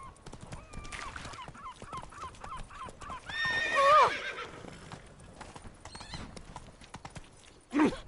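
Rhythmic clip-clop of a galloping horse in the video game Witcher 3, with a loud whinny midway and another brief neigh near the end, over quiet background.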